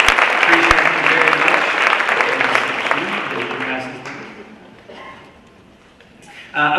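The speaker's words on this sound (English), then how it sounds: "Let's give a round of applause to Jeff Wink, who's helped us so much" Round of applause from a conference audience at a keynote and panel event, loud dense clapping that gradually thins and fades, followed by a quiet pause before a voice resumes.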